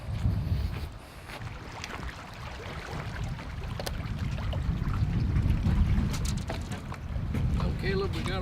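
Steady wind buffets an outdoor lakeside dock, a dense low rumble rising and falling for the whole stretch, with faint water lapping and brief distant voices beneath it.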